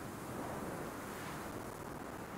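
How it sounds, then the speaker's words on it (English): Glitchy wind noise in the video game Sons of the Forest, a steady, broad rushing hiss that holds at an even level for the whole stretch, with no talking over it. "but this wind noise, this glitchy wind noise is not it"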